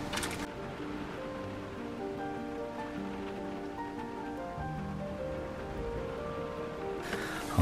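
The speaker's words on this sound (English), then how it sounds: "It's absolutely pouring down out there." Heavy rain pours down steadily on the outside of a campervan parked up in Ireland, a dense, even drumming patter that continues without a break throughout, with no talking.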